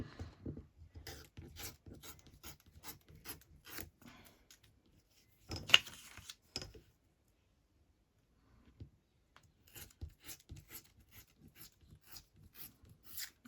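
Bits being trimmed off a soft, pale paper journal page: quiet, close, rhythmic rasping strokes come in two runs separated by a near-silent pause, with one louder snip in between.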